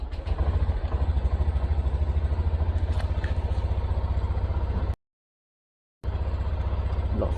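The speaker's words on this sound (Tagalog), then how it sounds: "Painit mo tayo ng motor" Motorcycle engine idling steadily while warming up before dawn ahead of a long Bulacan-to-Isabela ride, a loud continuous low throb that cuts out briefly to silence and then resumes.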